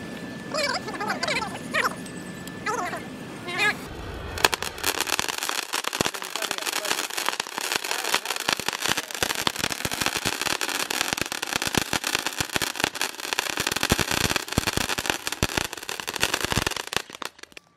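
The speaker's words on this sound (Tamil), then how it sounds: "இந்த பென்சிலை வந்து நம்ம பற்ற வச்சு எப்படி இருக்குது எவ்வளோ நேரம் வெடிக்குது அப்படிங்கிறத பார்க்கலாம்" A Sivakasi pencil firecracker is lit and bursts into a long, dense crackling stream of rapid loud pops lasting over ten seconds, preceded by a few seconds of quieter sounds and voices.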